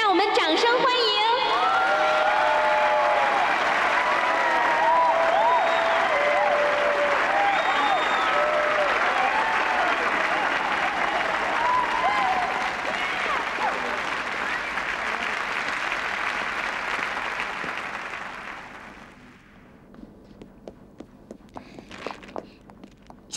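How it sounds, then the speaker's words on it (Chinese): Audience applause and cheering welcome a singer onto a nightclub stage, a dense sustained clapping crowd with whoops and shouts for about nineteen seconds before it dies away to scattered noise. "让我们掌声欢迎"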